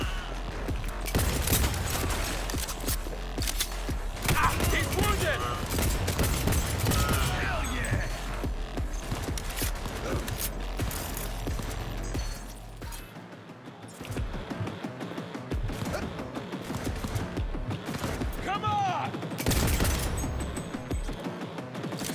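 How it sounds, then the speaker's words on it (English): Gunfire in the video game Cyberpunk 2077, dense loud bursts of shots and impacts throughout, with a brief lull partway before the firing picks up again. "I'm shooting through things."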